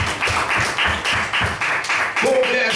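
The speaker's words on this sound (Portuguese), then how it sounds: "Louve ao Senhor mais uma vez com as suas palmas." Congregation clapping hands in praise at a church congress service, a steady rhythmic beat of claps repeating about every quarter second, loud and close, with a voice rising over the end.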